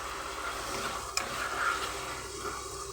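Eggs and tomato frying in a pan give a steady, even sizzle throughout, with one brief clink partway through and no talking.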